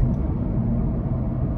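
Steady low road and engine rumble from inside a 2017 Honda Civic EX-T at speed, a continuous dense drone with tire noise and no speech, its transmission prone to a slight shudder.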